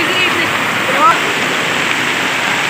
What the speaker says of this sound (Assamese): এই পানী পৰিছে ইয়াৰ পৰা অঁ ইয়াত পানী পৰি আছে